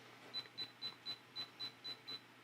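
A Ricoh Theta SC2 360 camera counts down toward its shot with eight short, evenly spaced electronic beeps, quiet and close in an otherwise still room.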